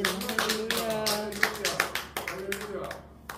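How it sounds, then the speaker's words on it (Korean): Applause from an audience at a church seminar gathering, a scattered round of claps with distinct sharp hits under a voice speaking over it. "박수 다시 한번."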